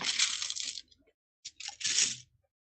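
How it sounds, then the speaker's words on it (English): Dice rattling as they are rolled during a tabletop roleplaying session, two short bursts of clattering and shaking separated by a brief pause, close and clear with no talk. "Hear the rattle of your dice."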